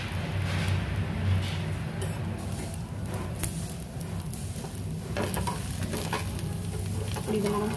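Oil sizzles steadily on a masala dosa frying on a hot pan, a continuous close hiss with faint scraping and stirring noises running through it, and no voices.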